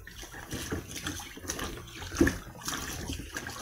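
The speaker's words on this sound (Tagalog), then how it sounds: "nailipat ko na sa palanggana yung pinakuluan kong panang baka. Ayan. Ayan, hugasan ko na siya." Water splashes and sloshes as boiled beef shank is washed in a basin, with hands moving the meat through the water. The sound is close, soft and continuous, with small splashes and no speech.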